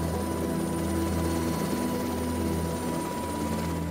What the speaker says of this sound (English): The helicopter is the undisputed champion of the injured and the sick.